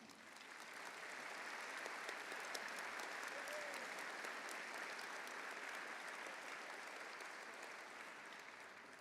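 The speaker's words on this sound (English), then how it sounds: "Let's give them a round of applause as they stand." Large audience applause in an arena during a college commencement ceremony, a steady, even wash of clapping from many people that swells in and holds for several seconds, heard at some distance.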